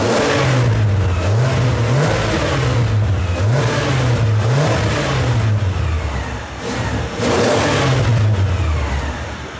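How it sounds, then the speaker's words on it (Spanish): A Ferrari V12 on its factory exhaust revs repeatedly and loudly at close range, rising and falling in pitch several times. There is a brief dip near the end before the engine climbs again, and no one speaks. "Este coche todavía conserva su escape de fábrica, relativamente discreto"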